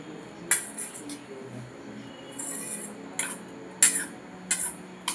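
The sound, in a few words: mixing potatoes and chickpeas together in a bowl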